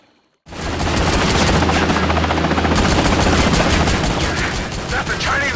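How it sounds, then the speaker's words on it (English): A Chinese army helicopter in Army of Two roars in abruptly after silence, its dense rotor thrum and loud rapid gunfire filling the scene, with a voice faintly underneath. "That's a Chinese army chopper."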